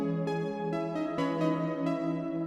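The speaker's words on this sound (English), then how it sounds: "Usually for a dark beat, I would pick like something like Cathedral." Dark synth melody played in FL Studio through the Reverb 2 Cathedral preset, sustained chords with a long, washy cathedral-style tail, notes restriking roughly every half second at steady volume with no talking.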